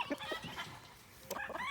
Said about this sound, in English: Our three little light Brahmas.